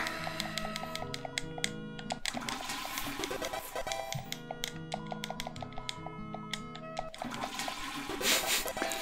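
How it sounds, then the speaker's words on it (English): A video game toilet flush from Deltarune, a steady whooshing water rush that swells and repeats in waves over a looping, tinkly music track, close and fairly loud, with no one speaking. "Flushing that toilet."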